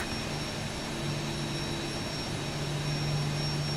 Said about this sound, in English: Engine start switch is continuous.